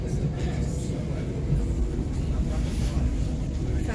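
A nearly empty passenger train moving on a weekday afternoon, with a steady low rumble and rolling rail noise filling the cabin, and a faint higher whine drifting in above.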